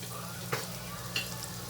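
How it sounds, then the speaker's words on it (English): Vegetables with garlic, salt and pepper sautéing in a pan, a soft steady sizzle with two brief utensil scrapes, quiet and close. "And we're just going to saute this for just a few moments."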